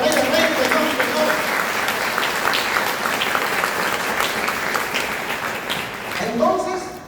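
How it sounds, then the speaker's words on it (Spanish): Loud, sustained applause from a church congregation fills the space, a steady wash of many hands clapping, with a voice faintly audible near the end. "Dan las palmas fuertes al Rey de Reyes, Señor."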